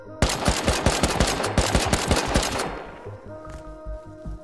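Rapid automatic gunfire in the survival game Rust, loud bursts of sharp repeated shots for about two and a half seconds, then fading to quieter distant reports over a low background hum.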